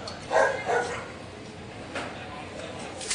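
A dog barks and yelps a couple of times early on amid a street shootout, fairly faint against background noise and commotion.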